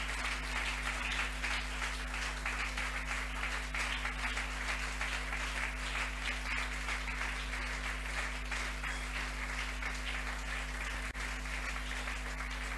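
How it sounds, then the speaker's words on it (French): A church congregation at a Sunday thanksgiving service applauds Jesus with dense, sustained clapping and some cheering, steady and loud throughout over a low electrical hum. "Est-ce qu'on peut acclamer Jésus?"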